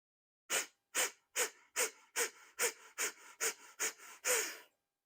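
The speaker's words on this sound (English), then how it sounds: "Big breath in." A run of rhythmic breaths during a yoga breathing exercise, about ten short sharp forceful puffs close to the microphone in steady succession, the last one longer and fuller.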